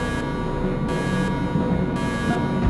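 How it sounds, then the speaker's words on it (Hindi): An electronic alarm buzzes in a corridor, its harsh tone switching on and off in regular bursts of under a second, loud and continuous with a constant mechanical hum beneath and no speech. "यहाँ पे पराजीव का अलार्म बज रहा है।"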